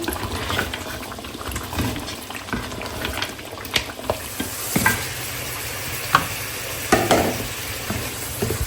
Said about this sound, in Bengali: এখানে মিটটাও কষায় ফেলতেছি